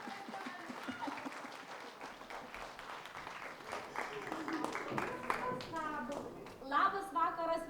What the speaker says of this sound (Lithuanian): Plojimai Vilijai.